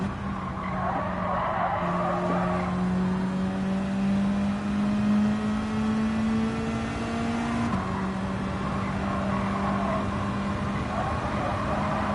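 Race car in Gran Turismo 7 held on the throttle through a corner, a steady engine drone with slowly rising pitch and faint tire squeal, continuous and fairly loud with no talk.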